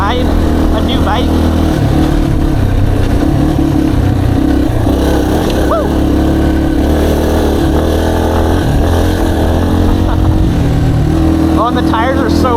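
A new Yamaha TTR dirt bike engine drones loudly while riding trails, with steady revs rising and falling throughout and wind noise over the microphone.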